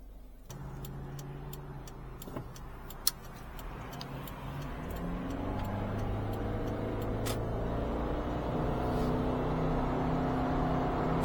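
A Subaru Impreza with a CVT, just repaired for a lockup solenoid fault, drives on a test run with a steady engine and road drone that swells gradually, broken by light ticking sounds.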